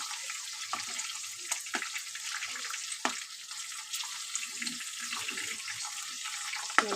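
Flat beans fry in hot oil for Bengali shukto, giving a soft, steady crackling sizzle with scattered sharp pops and spits. The sound is fairly quiet, and no one speaks.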